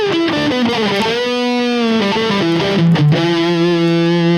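Sustained distorted electric guitar chords through a Vox Tonelab SE reverb effect, with a lingering, washy reverb tail, played loud and up close without any talking.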